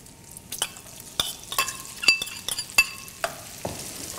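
Onions stirred into frying bacon and boiling molasses for classic baked beans, a close, steady sizzle broken by repeated scraping and clinking of a utensil against the pan.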